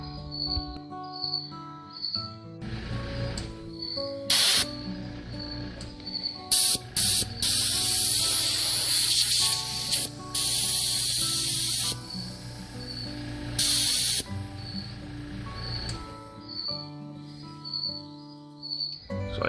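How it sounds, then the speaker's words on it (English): A broken airbrush from a model car build emits bursts of sharp hissing air, several loud spurts of a second or two separated by quieter gaps, with a faint repeating high tone behind them. "I can get air to come out of the bottom, but if I plug the hole, barely any air comes out of the tip"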